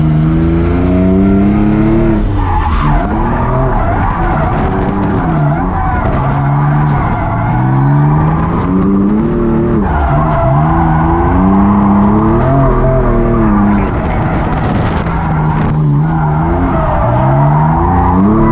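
Drift cars at a drift competition rev hard and skid with squealing tires, loud and continuous as engines surge and fall in repeated waves, heard from a bank beside the course.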